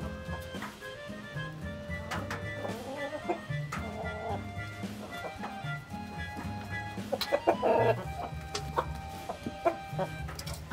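Brahma chickens cluck and a rooster calls in a busy coop, with several overlapping bird sounds up close and a louder burst of squawking near the end.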